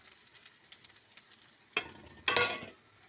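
Chili and garlic drop into a pan with onion and fry, bursting into two sharp sizzles after a quiet stretch of soft crackling.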